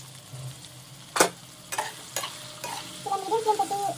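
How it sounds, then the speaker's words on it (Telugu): Stuffed eggplant curry cooks in a pan over medium flame while a spoon stirs it, giving several distinct scrapes and soft sizzling, ending in a busier stretch of stirring; no talking. "ఇలా మధ్య మధ్య కలుపుకుంటూ ఉండాలి, లేదంటే అడుగంటుతుంది."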